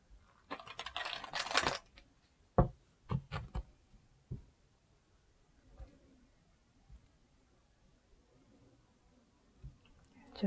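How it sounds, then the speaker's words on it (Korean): A deck of spirit message cards is shuffled in a short, dense riffle, followed by a few light taps and clicks as the cards settle, quiet and close, with faint voice in the background. "셔플 한 번만 더 할게요"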